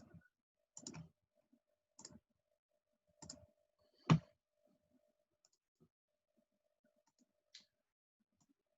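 Sparse, soft clicks of calculator buttons being pressed as numbers are entered, spaced a second or so apart with one louder tap, otherwise near silence.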